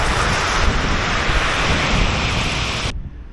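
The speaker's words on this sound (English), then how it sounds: "So the waves come out, wash the stones down." Sea waves wash steadily over a pebble beach at Brighton in a loud, continuous broadband rush of surf and rolling stones, with wind buffeting the microphone, cutting off abruptly near the end.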